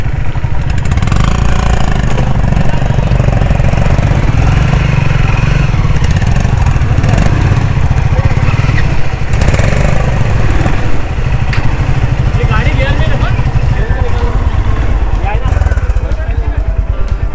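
A motorcycle engine runs steadily throughout with a continuous low throbbing rumble, close and loud, while people talk over it.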